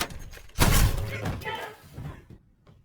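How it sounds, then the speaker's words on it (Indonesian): A garbage truck crashes into a house in a film action scene: a sudden heavy slam and thud, loud and close, followed by rumbling debris that fades to near silence. "sebuah truk sampah mendobrak rumah Michael"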